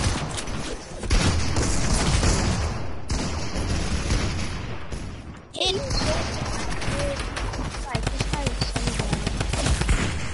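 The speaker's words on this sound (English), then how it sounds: "Why is everyone shooting at me?" Video game gunfire on a PS4, dense bursts of shooting and booms that run almost without a break, loud and close, with a voice talking over parts of it.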